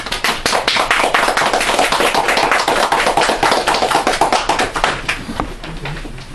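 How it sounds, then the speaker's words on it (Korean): A lecture-hall audience applauds to welcome a professor giving a philosophy lecture: dense, steady clapping from many hands that holds for several seconds, then thins out and fades near the end. "뜨거운 박수 부탁드립니다."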